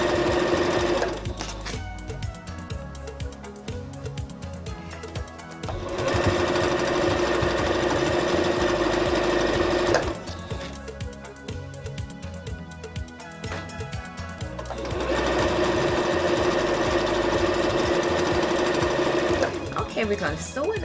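Sewing machine stitching the side seam of leggings fabric, running in long steady bursts with brief pauses between them, loud and close throughout.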